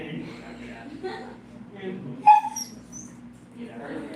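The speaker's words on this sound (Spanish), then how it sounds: "Ahí se escuchan a mi perrita, es que anda un poco traviesa." A small pet dog gives a brief sharp yip and a few soft whimpers indoors, mixed in under a person talking steadily.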